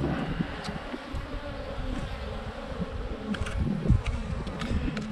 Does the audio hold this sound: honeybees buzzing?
yes